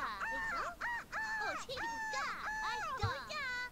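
A Sims 2 character plays at being a bird, letting out a series of loud, nasal crow-like caws in repeated rising and falling bursts, close and clear.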